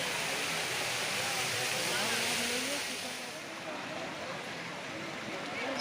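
The Bhoramdev waterfall during the fair season: a continuous, broad rush of falling water, with a voice talking over it.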